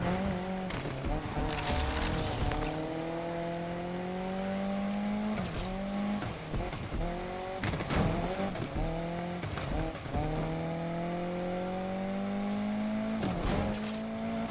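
A racing car in Need For Speed Unbound drives hard through bushes, its engine whining in repeated rising gear sweeps with sharp tire squeals and skids cutting in, loud and continuous throughout.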